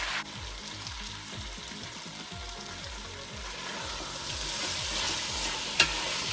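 Pork minudo is stirred in a hot frying pan, giving steady sizzling with a regular rhythm of scraping strokes close by and no talk.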